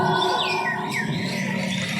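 White-rumped shama songbirds singing at a songbird contest, a dense, continuous chorus of bright whistles, trills and chirps from many birds at once, steady and loud with no talk.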